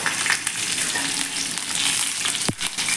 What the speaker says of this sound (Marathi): हिरव्या मिरच्या थोड्याशा आपण तेलावरती फ्राय करून घेणार आहोत एक मिनिटभर अशा तेलावरती परतून घ्यायच्या